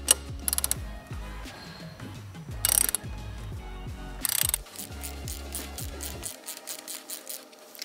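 A socket wrench loosening the oil filter housing on a 2021 Ford Bronco 2.7L: rapid repeated ratcheting clicks in close, rhythmic bursts with brief metallic clanks between strokes, no talking.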